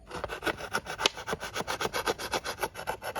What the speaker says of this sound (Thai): วิธีการก็เจาะค่ะ เจาะขวดให้เป็น รู ถ้ามีดใครคมๆเนี่ยนะคะ เราจะใช้มีดหั่นไปเลยก็ได้ค่ะ